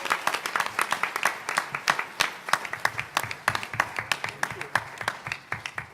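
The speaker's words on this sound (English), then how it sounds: "Let's give her a round of applause" Audience round of applause for Congresswoman Bonnie Watson Coleman at a justice reform conference, steady, fairly close clapping with distinct individual claps sustained over several seconds.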